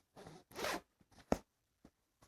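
A main zipper on a K&F Concept camera backpack pouch is pulled in a few short, sharp zips with pauses between them, close and clear with no talk.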